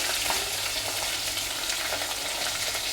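Chopped onion and green chillies fry in hot oil in a pan for bagara rice, giving a dense, unbroken hiss and crackle of sizzling that stays close and even throughout.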